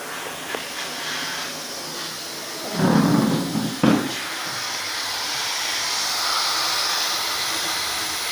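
Air and water spray blasting through an AC unit during cleaning, a steady hiss throughout with a louder burst of spray near the middle, close and without talk.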